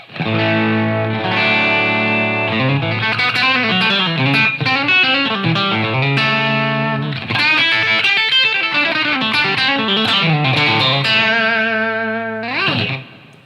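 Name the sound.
electric guitar played through tube amp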